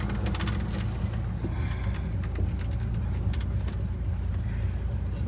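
A 1967 Pontiac Grand Prix with a newly replaced power steering pump, on a test drive around the block: a steady engine drone and road rumble from inside the car, continuous and fairly loud, with no talking.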